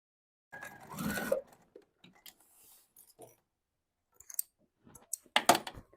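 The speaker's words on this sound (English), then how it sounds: "we get to go back over to the machine, and I'm going to stitch cork side up" A sewing machine stitches cork fabric on a cork backpack, cork side up, in short bursts: one longer run of stitching, then a pause and a few quick, clicking spurts near the end.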